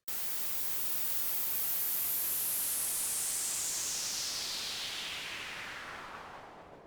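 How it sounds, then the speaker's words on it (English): A synthesizer's filtered white noise sweeps steadily downward in pitch, a loud continuous hiss that darkens over about seven seconds and fades slightly at the end. "that's how you can get pitch out of white noise and make like a down sweep"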